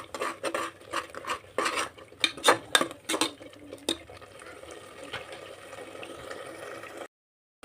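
Spices and turmeric fry in a pan for avarekalu pulao, heard as close metal scraping and rapid clatter of a spoon against the pan that fades into a soft sizzle before cutting to silence.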